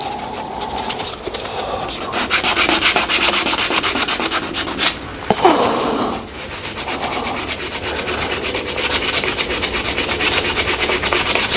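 Resin shaving brush blank is sanded with grit paper while spinning on a lathe, giving a continuous close, loud rubbing hiss with a brief dip midway, and no talking.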